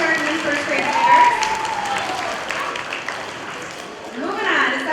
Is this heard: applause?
yes